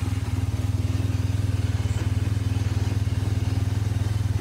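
A Kawasaki KZ750 motorcycle engine runs at a steady idle close by, a loud, even low throb with a regular pulsing beat and faint mechanical clatter on top, no talking.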